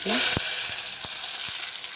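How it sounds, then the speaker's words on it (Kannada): Onions, tomatoes and green chillies sizzle in oil in a steel pan with a steady hiss, broken by a few soft clicks of stirring. "ಈರುಳ್ಳಿ, ಟೊಮೆಟೊ ಹಾಗೆ ಹಸಿಮೆಣಸಿನಕಾಯಿ ಇದನ್ನು ಒಂದು 2 ನಿಮಿಷ ಫ್ರೈ ಮಾಡಬೇಕು"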